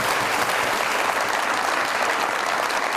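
Studio audience applause on a Pakistani TV comedy show, a loud, dense, continuous burst of clapping from a large crowd, heard alone without talk.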